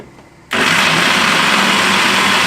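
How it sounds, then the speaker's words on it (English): A blender whirs through soaked cashews and about a cup of water for a creamy sauce. After a quiet moment it kicks on abruptly and runs at a loud, steady roar to the end. "So let's blend these cashews up until nice and creamy."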